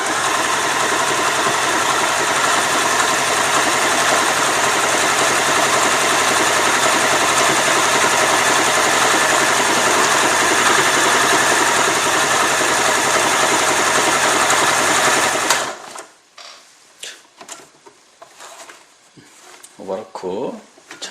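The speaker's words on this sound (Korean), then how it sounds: "10번 오면 발판으로 밟고 그냥 기본 노루발 상태에서 하셔도 되고 오버룩 노루발 사용하셔도 됩니다." An Elna 20 sewing machine runs with the foot pedal held down and an overlock presser foot fitted, a steady loud mechanical whir for about fifteen seconds, then it stops abruptly and leaves a few faint handling noises.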